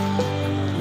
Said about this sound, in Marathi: गारपिटीसारखा बर्फाचे गोळे पडतात